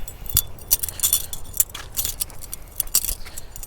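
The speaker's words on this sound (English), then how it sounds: "you can hear that clicking sound" Several sharp metallic clicks and clatters of a 2010-11 Chevrolet Camaro SS car door lock, spaced irregularly, close by, with a faint jingling quality and no voices.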